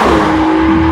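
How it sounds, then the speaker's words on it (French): An Aston Martin DBS slides into a small drift, its tires squealing in one steady, loud, close whine over the engine's low roar for about a second, with no voices. "petite dérive, on la rattrape tout de suite"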